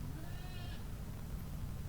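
A baby goat lets out a single short, thin bleat over steady low rumbling background noise, faint and fairly close.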